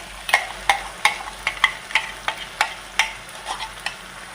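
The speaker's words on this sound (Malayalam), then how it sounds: "ഇനി ഇത് നന്നായിട്ട് നമുക്ക് വഴറ്റിയെടുക്കാം." Tomato and onion masala for egg curry is sautéed in a pan, a spoon scraping and stirring in about a dozen regular strokes over a soft continuous sizzle, close and clear.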